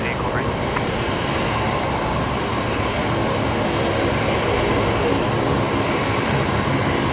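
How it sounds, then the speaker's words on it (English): Qantas 528, in from Sydney, comes in to land on runway 19 left at Brisbane Airport. Its jet engines make a loud, steady, broadband roar that fills the whole stretch. "Qantas 528 coming in now on runway 19 left"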